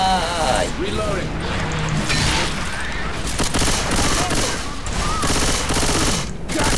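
Dense rapid gunfire in the zombie shooter Left 4 Dead 2 pours out in continuous loud bursts with mechanical clatter, while players talk over it.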